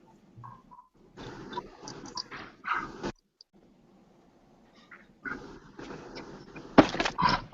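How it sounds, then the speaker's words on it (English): A restless puppy dog makes bursts of yelps and barks in a home, with gaps of near silence between them and a sharp loud burst near the end, along with some clattering like a door. "I'm throwing this dog outside."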